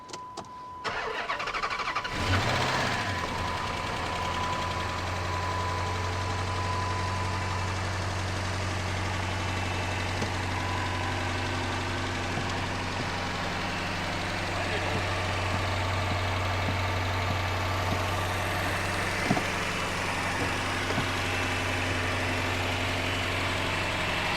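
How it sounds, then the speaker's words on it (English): A rebuilt V8 Dodge Charger with a newly fitted ECU cranks briefly, catches, and settles into a steady, deep idle that holds for the rest of the stretch, with faint voices in the background. "Last thing to do now is just try to start it."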